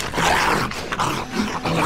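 Zombie dogs in the video game 7 Days to Die, a short burst of rough growling and snarling mixed with game noise, close and fairly loud.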